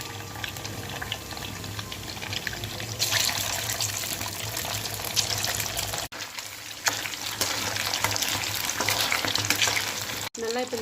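Marinated chicken pieces fry in hot oil with a steady, close crackling sizzle that continues throughout, broken only by a couple of brief handling clicks.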